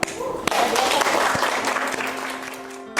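Students in a university hadith studies classroom give a student group a round of applause: close, dense clapping that swells quickly and fades after about three seconds, with a voice briefly audible.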